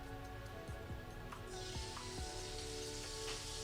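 Extra virgin olive oil heating in a pan over a medium flame, with a steady soft sizzle and hiss, light scattered crackles, and a brief clink or two near the start.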